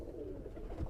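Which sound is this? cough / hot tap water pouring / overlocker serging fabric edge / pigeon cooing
pigeon cooing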